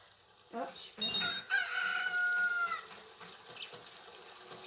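A rooster crows at daybreak in The Legend of Zelda: Ocarina of Time, a drawn-out electronic cock-a-doodle-doo at moderate volume over soft game ambience, with no talk.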